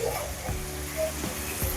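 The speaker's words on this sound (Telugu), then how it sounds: "అల్లం వెల్లుల్లి పేస్ట్ పచ్చివాసన పోయేంత వరకు ఫ్రై చేసుకోవాలి." Ginger garlic paste fries in a pan, a soft continuous sizzle with occasional faint stirring knocks, fairly quiet and steady throughout.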